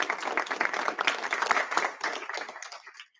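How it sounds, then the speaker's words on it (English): A pageant audience applauds at a coronation night, a dense patter of many clapping hands that holds for about two and a half seconds and then fades out quickly. "Let's give her a big round of applause."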